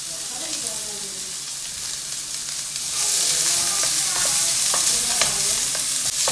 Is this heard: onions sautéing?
yes